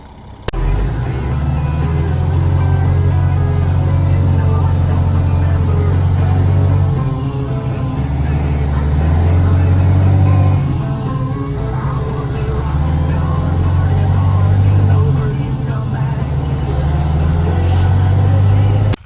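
A loaded grain truck hauling harvested corn rumbles along toward town, its low engine note rising and falling through the gears, with sharp air-brake hisses near the start and the end.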